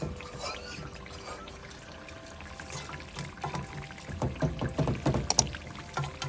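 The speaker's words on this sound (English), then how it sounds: "now I'm pouring this on my fish. It's a little bit of water" Water poured over snapper fish in a pot for Jamaican brown stew, rinsing out the pot; a close, trickling splash that builds in the final seconds.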